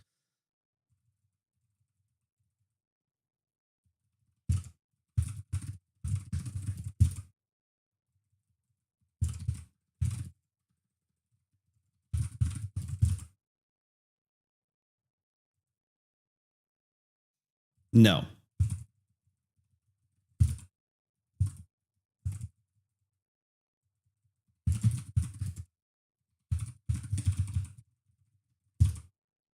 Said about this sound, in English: It's faster to type that than not.